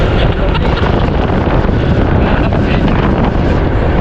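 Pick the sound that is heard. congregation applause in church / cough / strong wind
strong wind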